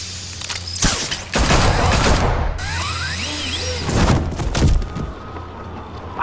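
Gunfire in Batman: The Telltale Series game, with a burst of loud shots followed by crashing impacts and action sounds, mixed with music and effects.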